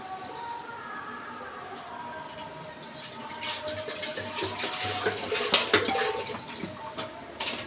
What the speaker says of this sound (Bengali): এবার আমগুলো ধোয়াই আছে এবার একটু ধুয়ে দিয়ে দিচ্ছি